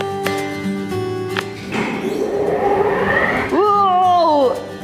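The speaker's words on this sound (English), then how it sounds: "That was the sound of the gear kicking into action and it's beginning to pull the steps round." Escalator drive gear engaging and starting to pull the steps round: a rising mechanical whir with rolling broadband rumble builds over a steady hum, then a strong harmonic whine sweeps up and settles, loud and close.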